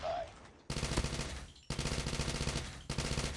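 Rapid automatic gunfire in a multiplayer shooter game, three loud sustained bursts of fast shots separated by brief pauses, close and punchy, with a faint voice just at the start.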